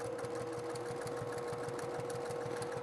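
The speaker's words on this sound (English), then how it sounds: "I'm just stitching down that blue line" A sewing machine runs steadily close by, stitching a quilt top along a marked blue line with a fast, even mechanical chatter and a constant motor hum.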